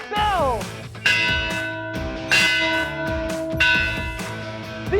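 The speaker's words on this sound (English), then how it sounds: "Coach Todd Lowry, ring that bell!" A bell rings out to celebrate a college volleyball team's sweep, struck four times in a steady rhythm, each clang loud and bright with a long ringing tail that overlaps the next strike.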